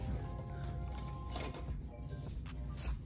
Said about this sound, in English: close up the Cricut because I'm done with it for now